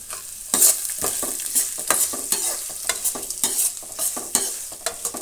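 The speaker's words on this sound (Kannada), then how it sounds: "ಸ್ವಲ್ಪ ಫ್ರೈ ಆಗ್ತಾ ಇದ್ದಂಗೆ ನೋಡಿ ಸಣ್ಣದಾಗ ಹಚ್ಕೊಂಡಿರುವಂತಹ ಈರುಳ್ಳಿ ಎರಡು ಈರುಳ್ಳಿನ ಹಾಕ್ತಾಯಿದ್ದೀನಿ" Chopped onions, two of them, fry and get stirred in a pan for a bitter gourd gravy, giving a steady close sizzle broken by repeated scraping stir strokes, with no talking.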